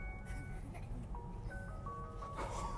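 Ice cream truck jingle playing from a Tesla's external speaker outdoors, a thin melodic tune over steady broadband street noise, moderately loud and continuous.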